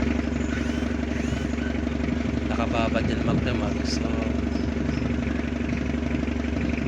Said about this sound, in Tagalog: nakasalpak yung hose habang nakaandar yung makina, para may tulak niya lalo yung carbon